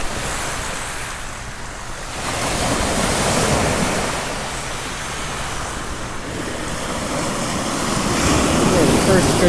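Surf rolling onto the beach at the mouth of the Cascade River, a steady broadband wash of breaking waves with surges and wind buffeting the microphone, loud and continuous with no voices.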